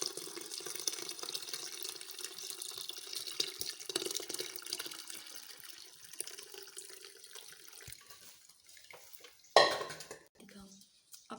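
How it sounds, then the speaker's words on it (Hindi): Water from a pan is poured through a muslin cloth tied over a jug in a home kitchen while making rasgulla, a steady splashing pour that runs for several seconds, then a sharper clatter near the end. "तो अब मैं सारे पानी को इसके अंदर डालूँगी।"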